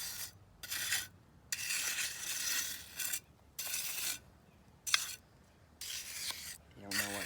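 A float is worked back and forth in a sawing motion across wet concrete, making a run of rough, rasping scrapes in uneven strokes separated by short pauses.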